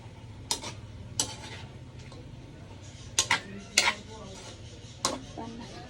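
A lid goes onto a cooking pot with several light metallic clinks and taps spread across a few seconds, close by and fairly quiet over a soft background hum.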